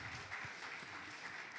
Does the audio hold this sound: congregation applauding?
yes